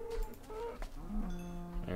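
Cows mooing in the Minecraft video game, a few low drawn-out lows, fairly quiet, mixed with other faint game sounds.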